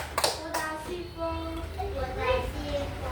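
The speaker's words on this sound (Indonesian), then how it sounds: "Beri tepuk tangan buat Fiana." A few children clap briefly for a classmate in a school lesson, short scattered claps near the start, then a voice and classroom chatter take over.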